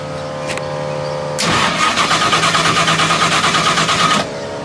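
A car engine cranks over in a fast, steady rhythm for about three seconds without catching, then the starter stops, leaving a low background hum.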